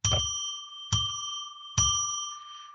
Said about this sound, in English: I'm going to ring a bell 3 times